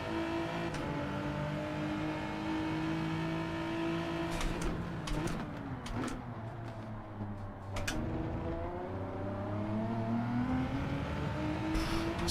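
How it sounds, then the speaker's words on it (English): A race car engine revs in Gran Turismo 7, rising and falling through sustained harmonic whines with abrupt gear changes midway, loud, close and continuous with no talking. "So he revs this out a little bit more."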